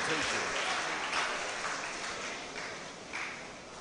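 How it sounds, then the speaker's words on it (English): A student summit audience claps after a presentation, a steady broadband patter of many hands heard at a distance, even in level with a small surge near the end. "Can we have a big round of applause for Tony Anjos Ademuyiwa for that wonderful"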